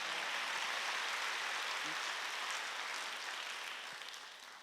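Church congregation clapping together during a Wednesday worship service, a steady broadband wash of applause that holds loud and even throughout, tapering slightly near the end.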